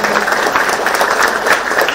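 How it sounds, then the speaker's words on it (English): Dense, steady applause from a large audience, continuous clapping filling the room without pause. "So please give him the applause that he deserves as he leaves."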